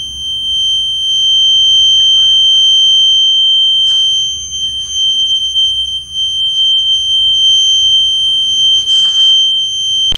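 A smart baby cradle's buzzer alarm sounds as a steady, piercing electronic tone that holds unbroken for the whole stretch over low background rumble, with a few faint clatters around it.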